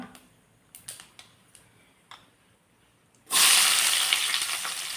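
Long-sliced onions hit hot oil already seasoned with cumin seeds while cooking Maggi noodles. A few faint clicks come first, then a loud, steady sizzle bursts in and holds close up to the end, with no talking.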